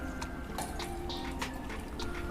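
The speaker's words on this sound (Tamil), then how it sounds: "இது கூட ஒரு டம்ளர் அளவுக்கு தண்ணி சேர்த்திக்கணும்" Water poured into a mixer jar while making ghee at home, heard as quiet, intermittent splashing and dripping trickles, close by with no talking.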